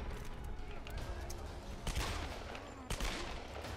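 Pistol shots in Tomb Raider Definitive Edition, a few sharp cracks over dense, noisy combat ambience, one near the middle and another toward the end.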